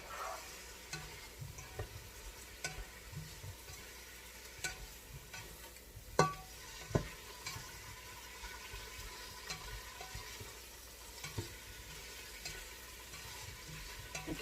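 A spoon mixing paprika into a beef stew mixture in a pot, with soft scraping and wet stirring under a gentle sizzle, punctuated by a couple of sharper clinks against the pot, close and without talk.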